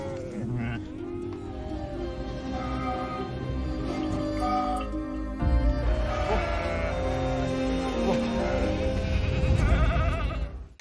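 Goats bleating repeatedly over a dense, busy mix of other sound while a herder milks and tends them, the animal calls rising and falling throughout.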